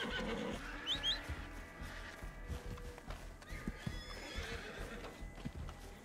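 A horse in the game Red Dead Online whinnies and snorts while hooves clip-clop steadily underneath, close and moderately loud, amid faint game background sounds.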